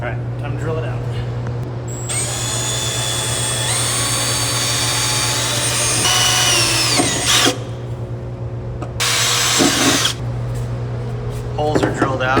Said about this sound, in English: All right, time to drill it out.